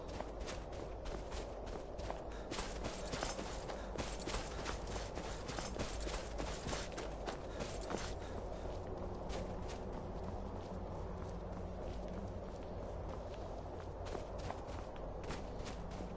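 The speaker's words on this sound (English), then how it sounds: "Gravity-defying horses of Skyrim" A horse in the video game Skyrim clip-clops over rocky ground, a steady run of quiet, evenly spaced hoofbeats that continues throughout.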